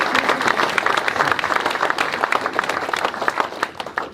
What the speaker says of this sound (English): we'll please give them a round of applause